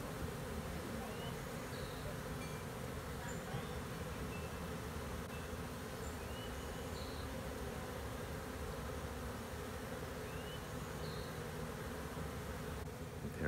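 A bee swarm in the open: a dense, steady buzzing of many bees surrounds the listener for the whole stretch, with faint individual wingbeats passing close by.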